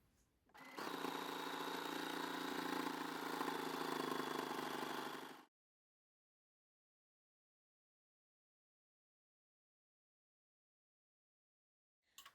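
A sewing machine stitches buttonholes into a wool-blend trouser waistband, a steady close whirring run of about five seconds that stops abruptly, followed by near silence.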